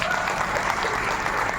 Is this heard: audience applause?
yes